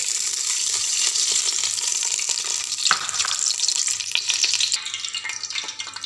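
Ghee warming in a cooking pot for matar pulao, a steady soft sizzle with faint hiss and occasional light clinks, continuous and fairly close throughout, no talking.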